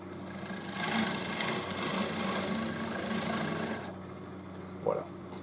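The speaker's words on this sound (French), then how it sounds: "Je vais ralentir la vitesse et je vais percer." Wood being drilled at slowed speed during woodturning of a crooked piece, a steady close whirring grind that runs continuously, then ends with a brief knock.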